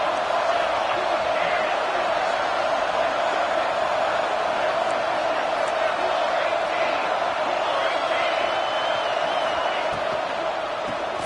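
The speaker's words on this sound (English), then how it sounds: "And the crowd coming to life here, trying to help this defense down in the red zone." A football stadium crowd roars during a red-zone defensive stand, a loud continuous wall of cheering and noise that holds steady from start to finish.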